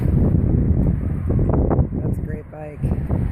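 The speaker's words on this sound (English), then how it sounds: "Ooh, it's windy out here. I can't do much recording in the wind." Strong outdoor wind rumbles and buffets the microphone continuously beside a parked bike, with faint speech-like voices mixed into the roar.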